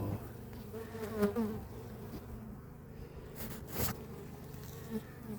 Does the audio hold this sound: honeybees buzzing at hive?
yes